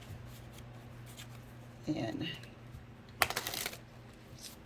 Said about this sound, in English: when I pause, I shuffle and cut all the cards to get your energy